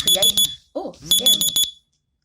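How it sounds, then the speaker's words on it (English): A loud electronic phone alarm beeps in rapid bursts of four, pauses briefly, then repeats; a short spoken sound falls in the gap. "Sorry, my alarm went off."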